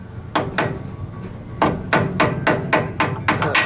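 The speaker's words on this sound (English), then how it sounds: "brass hammer" A brass hammer strikes hard about nine times on Jeep Rubicon Dana axle parts, each blow a sharp, ringing clank, slowly at first and then in a steady, quicker rhythm.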